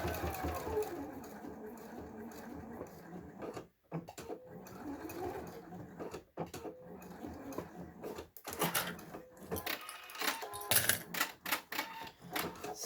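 Sewing machine stitching a wristlet in long steady runs with a few short breaks, the motor and needle hum close but fairly quiet, with some speech over it at times.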